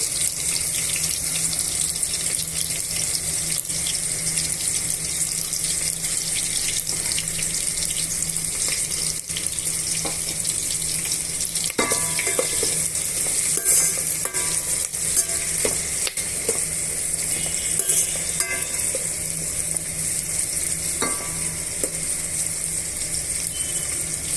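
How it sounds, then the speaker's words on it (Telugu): Onion and green chili pieces frying in ghee for mutton biryani, a continuous close sizzle with intermittent scraping and clinking stirs, no talking. "ఇప్పుడు ఉల్లిపాయ ముక్కలు పచ్చిమిరపకాయ ముక్కలు వేగిపోయాయండి"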